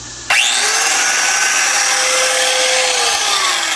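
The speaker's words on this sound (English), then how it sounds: "Take my angle grinder, and it looks like I need to put a new wheel on it" An angle grinder spins up abruptly and grinds against a steel lawn mower blade to sharpen it, a loud, sustained high-pitched whine and rasp close to the listener, continuing without pause.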